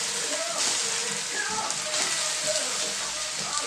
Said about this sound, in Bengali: এবার আমি মাটনটা দিয়ে দিলাম।